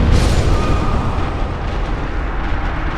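A boss attack in Dark Souls sets off a loud, deep explosion that rumbles heavily at the start and then trails off into a long roaring decay.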